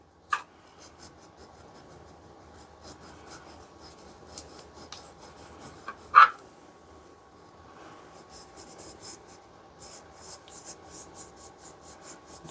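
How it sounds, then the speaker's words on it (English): An automotive Scotch-Brite pad rubs back and forth on an old North Bros screwdriver to lift patina, making a soft, close, rhythmic scratchy rasp in steady strokes with a sharper knock or two, and no speech. "I'm going to use the automotive Scotch-Brite on it just to see if it removes a little bit more of the patina."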